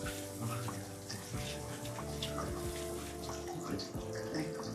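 Low-pressure water sprays steadily from a hose over a wet dog during a bath, a continuous close hiss and splatter with occasional knocks and splashes, no talking.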